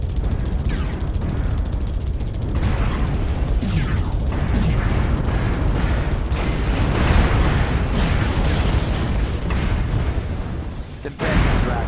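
Explosions and battle noise from the online shooter Firestarter on the Alpine Peaks map: a dense, continuous roar of blasts and gunfire, loud throughout, with sharp bursts breaking through at intervals.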